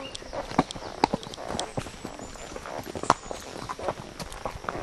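Horse hooves clip-clop steadily at a relaxed walk on a trail ride, close by and moderately loud, with brief soft creaks and rustles between the footfalls.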